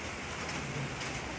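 Steady rain falling outside a farm animal shelter, a dense even patter with no break across the whole moment, moderately loud and with no voices over it.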